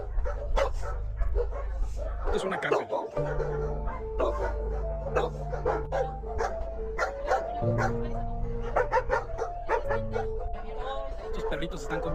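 Dogs at an animal shelter bark, yip and whimper in a dense, continuous chorus, with a person talking over the din and a bit of laughter.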